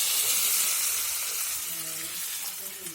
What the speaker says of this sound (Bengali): রসুনগুলো ভালো করে ভেজে নেব, লাল করে ভাজতে হবে।